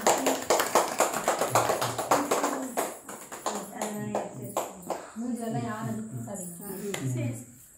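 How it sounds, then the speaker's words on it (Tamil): A group claps steadily at a birthday celebration after a birthday song, a run of quick, sharp handclaps up close, then voices take over as people chatter and clapping fades. "எல்லாம் கை தட்டுங்கப்பா."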